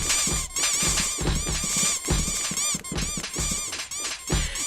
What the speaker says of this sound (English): The dog toys are squeaky toys, so they make a squeaky sound when they hit me.